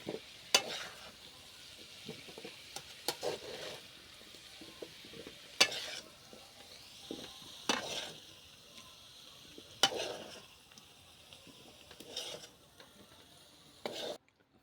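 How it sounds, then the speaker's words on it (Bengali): A spatula scrapes through potatoes and cucumber frying in a wok. Several separate scraping strokes sound every few seconds over a faint, low sizzle, close and fairly quiet, with no talking. "আলু শসা এইভাবে নাড়তে থাকতে হবে, নাহলে কড়ার মধ্যে ধরে নেবে"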